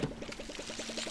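Crops are watered in the video game Palia with a quick, even run of bubbling pour pulses, a faint watery gurgle over a thin steady tone.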